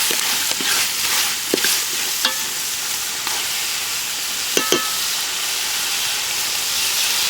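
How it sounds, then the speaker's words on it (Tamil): Tamarind water poured into sizzling masala, giving a loud, steady hiss and sizzle with a few brief clinks and splashes over the bubbling. "இப்போ அடுத்து நம்ம கட்டி வச்சு புளியை ஊற்றுறோம்"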